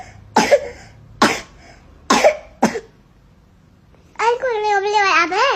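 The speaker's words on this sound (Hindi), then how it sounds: "चलो खांसी हो रही है ना" A child coughs four times in sharp, separate bursts, close by, then a voice follows in a drawn-out, wavering call.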